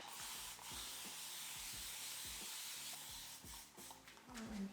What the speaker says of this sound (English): I need to spray water into my hair